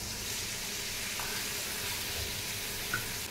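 Constant sizzling hiss of onions frying in a pan for anchovy fish thokku, steady throughout with a faint splash as masala water is poured in near the end.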